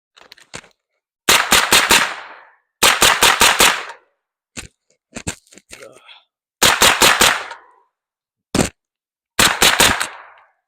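Rifle with a long, heavy trigger fired at night under a PVS-14 monocular night-vision device, loud and close: rapid strings of about four shots, separated by short pauses and a few isolated single shots.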